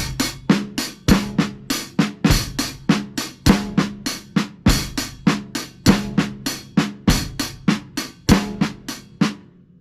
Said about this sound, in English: now we're going to move the right hand to the hi-hat.